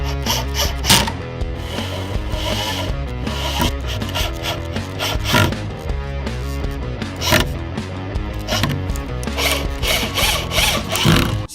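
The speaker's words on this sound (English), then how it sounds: "So now it's all screwed together" Wooden shelf legs for a DIY reptile enclosure are screwed together, giving loud, sustained grinding and rubbing of screws biting into wood, punctuated by sharper knocks.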